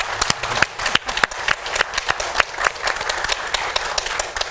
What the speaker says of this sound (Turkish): Kocaman, çok büyük bir alkış onlara.